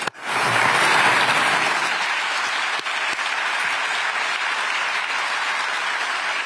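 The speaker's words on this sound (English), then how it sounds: "So every applause is warranted for you, Armin, and your people." Applause erupts from an audience at a Rheinmetall artillery plant in Unterlüß, swelling quickly into sustained, fairly loud clapping from many people that holds steady and fades only slightly toward the end.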